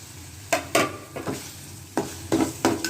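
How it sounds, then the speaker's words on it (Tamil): Goat spleen hits a hot pan coated with ginger garlic paste, giving a few sharp sizzling bursts and stirring scrapes spaced irregularly, close and loud, with quieter frying hiss between them and no voices. "இப்போ இஞ்சி பூண்டு பேஸ்ட்டு போட்டு வதங்கினதுக்கப்புறமா இந்த மண்ணீரல் போட்டிருக்காங்க"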